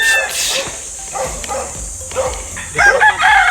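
A rooster crows loudly and nearby, with a second crow starting near the end, over outdoor background noise.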